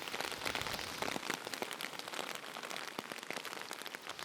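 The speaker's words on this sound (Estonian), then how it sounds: "Vihm on tulekul, tumedad pilved." Rain falls steadily on surfaces at the ancient Maya temple ruins of Tikal in Guatemala, a dense continuous patter with scattered louder drops, close and alone without voices.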